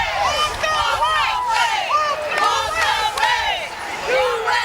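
A crowd at an outdoor Walkaway political march, heard close as a dense mix of many voices shouting and calling out in overlapping bursts throughout.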